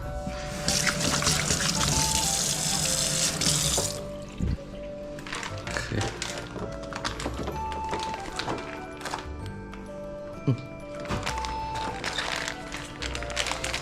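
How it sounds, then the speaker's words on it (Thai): Hands washed under a running kitchen tap, with a steady hiss of water for several seconds, then splashing, rubbing and clattering as the flow stops, close and moderately loud. "ล้างมือ"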